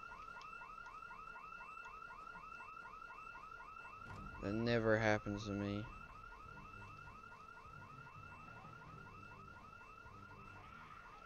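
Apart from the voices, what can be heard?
house alarm ringing in the video game Project Zomboid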